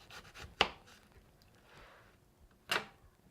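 Knife slicing eggplant on a cutting board, giving two sharp close chops about two seconds apart along with a few softer cutting and shuffling sounds in a quiet kitchen, with no talking.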